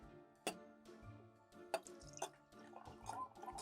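Yellow and blue colored water is poured into a glass, producing soft splashes, drips and light glassy clinks in short bursts, close and quiet.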